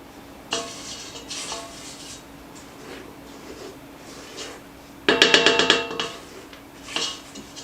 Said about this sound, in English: We're just going to mix that, scrape the bowl.